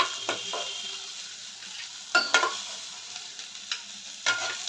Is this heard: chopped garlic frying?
yes